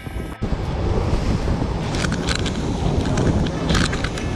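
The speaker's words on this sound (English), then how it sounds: "It's getting a little bit more windy." Wind gusting over the ocean on a fishing boat chasing tuna and kingfish, a constant loud rushing buffet against the microphone with waves and hull noise underneath, no clear speech.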